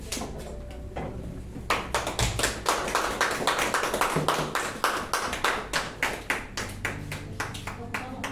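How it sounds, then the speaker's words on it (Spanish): A church congregation claps together after a sermon, sharp, evenly spaced hand claps in a steady rhythm that starts sparse and builds into a regular beat, close and clear. "Vamos a dar un fuerte aplauso, ¿verdad?"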